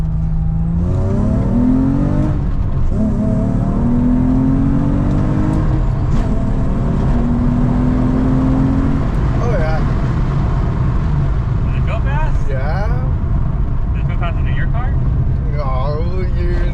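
A manual six-speed car engine revs hard and climbs through several gears, loud and close, with people talking over the roar.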